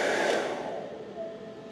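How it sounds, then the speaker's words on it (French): A LANPWR D5 2 kWh portable battery's cooling fan runs steadily under a 1600-watt load, a broad airy whoosh with a faint whine, close and continuous with no voices. "On entend vraiment bien la ventilation."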